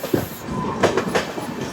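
A Tirupati Express LHB coach train rolls slowly through Kadiyam station, giving a steady rumble with rhythmic wheel clicks and a faint squeal, heard from on board without speech.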